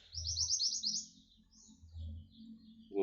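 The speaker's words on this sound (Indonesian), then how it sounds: "Ini sekarang pun udah bunyi dia" A white-crowned forktail gives a high, rapid trilling burst followed by thinner chirps, close and clear over a low background hum, with a brief faint noise at the end.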